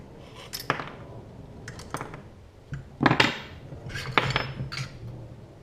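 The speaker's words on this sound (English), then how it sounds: "take this stock off, loosen this 5/8 nut" Metal clinks and clanks as a Ruger Precision Rifle's adjustable stock is removed and its 5/8 nut loosened with a tool, several sharp separate taps and rattles spread over a few seconds, close and alone.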